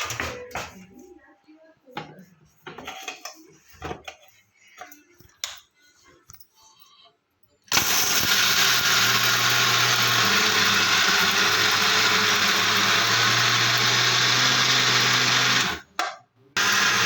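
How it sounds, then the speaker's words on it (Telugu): A mixer grinder with its lid on grinds peanut chutney, roaring loudly and steadily from close by for about eight seconds after some quieter clatter and handling noises, then stops briefly and starts again. "మూత పెట్టుకొని గ్రైండర్ వేసుకోవాలి"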